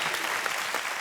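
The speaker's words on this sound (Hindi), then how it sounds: "जोरदार तालियां बाजी." A studio audience on The Kapil Sharma Show claps hard and steadily, a dense, even wash of applause filling the whole second at close range with no pause.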